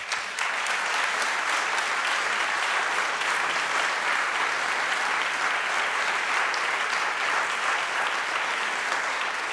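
An audience at a student success event applauds a panel discussion on risk-taking. Dense, even clapping from a large crowd fills the room at a steady, loud level throughout.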